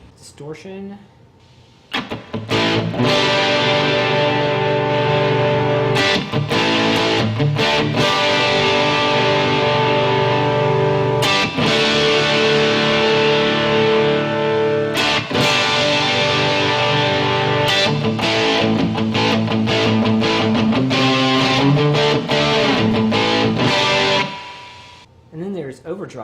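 Distorted electric guitar played through a distortion pedal with a clean amp setting, sustained loud chords and ringing notes with rich harmonics filling the stretch, a few brief pauses between strummed phrases.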